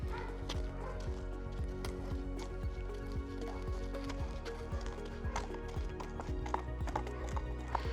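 Horse hooves trotting on a hard surface during a lameness assessment, a steady rhythmic clip-clop of repeated footfalls at moderate distance over constant background noise.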